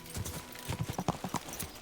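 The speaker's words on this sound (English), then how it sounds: "I just stole one of their horses." Horse hooves clip-clop in a steady, fairly loud trot while riding a stolen horse in the video game Kingdom Come: Deliverance 2, with faint voice sounds mixed in.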